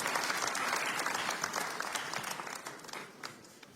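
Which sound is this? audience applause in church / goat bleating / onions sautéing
audience applause in church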